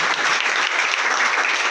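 An audience breaks into dense, sustained applause, a steady wash of many hands clapping close and loud throughout, honoring a young performer, the grandson of Pandit Ram Marathe, at a stage event.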